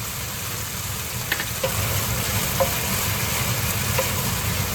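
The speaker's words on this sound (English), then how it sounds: "And turn on the heat, stir." Asparagus and sliced pork stir-frying in a pan over heat, giving a steady sizzle over a low rumbling hum, with a few soft taps of a utensil against the pan and no speech.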